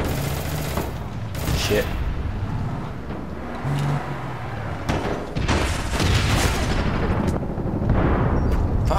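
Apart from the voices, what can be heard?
gunfire in video game APB Reloaded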